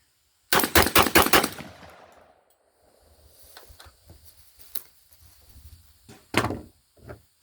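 Rapid 9mm pistol shots at a shooting range, a quick burst of five or six sharp reports followed by quieter handling clatter and two more isolated shots, close and loud.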